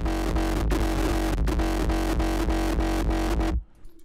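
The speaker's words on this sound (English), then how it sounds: "let's make it a bit more aggressive. Maybe more distortion." A heavily distorted, pounding uptempo hardcore kick drum repeats at a fast, steady tempo, loud and saturated, then cuts off abruptly near the end.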